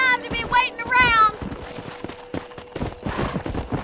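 A horse's hooves clip-clop quickly in Red Dead Redemption, with a whinny near the start and voices calling out over the galloping.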